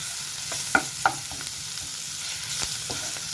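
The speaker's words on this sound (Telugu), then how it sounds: "1/2 టీ స్పూన్ పసుపు, 1/2 టీ స్పూన్ అల్లం వెల్లుల్లి పేస్ట్ వేసుకొని కాస్త ఫ్రై చేయాలి" Turmeric and ginger garlic paste fry in a pan, a soft steady sizzle with a few sharp stirring clicks, faint and close with no talking.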